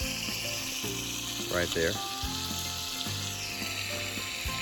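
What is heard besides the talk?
bacon sizzling in pan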